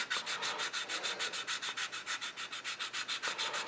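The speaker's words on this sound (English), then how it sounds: "as we're sanding across it, we're sanding across the whole thing" Steady back-and-forth strokes of a sanding stick on a plastic model tank, fast and evenly rhythmic, close up with a dry gritty rasp and no talking.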